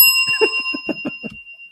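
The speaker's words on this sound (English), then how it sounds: "I'll ring a bell for you" A small bell rung a few times nearby, its clear metallic tone sustaining and slowly fading while a quick series of rhythmic strikes sounds over it, with no voices.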